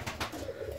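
Fancy ornamental pigeons coo softly at a feeder stocked with grit, a short low murmuring call close by.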